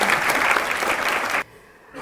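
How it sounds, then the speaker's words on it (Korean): An audience at a corporate recruitment information session gives a burst of dense clapping that stops abruptly after about a second and a half, then leaves quiet room tone. "다시 한번 큰 박수 부탁드릴게요"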